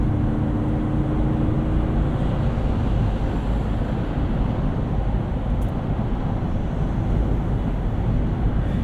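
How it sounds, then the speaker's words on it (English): Cabin of a 2018 Lexus GX 460 at highway speed, a steady broadband rumble of road and engine noise with only a soft wash of wind, constant and unbroken without speech. "And as you can hear, very little wind noise."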